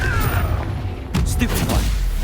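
A fiery Confringo blast from a spell in the Hogwarts Legacy video game booms loudly amid continuous battle noise, with a voice calling out in the middle of the fight.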